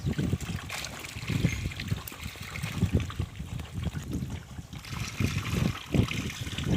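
Water trickles and gurgles steadily into a hybrid murrel fish tank nearby, a soft continuous splashing with small bubbling surges.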